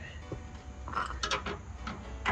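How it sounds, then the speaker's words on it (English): A socket wrench ratcheting while an inline electric fuel pump is reassembled: short uneven bursts of metallic clicking, close by, with brief pauses between strokes. "I should get a socket to put it back together."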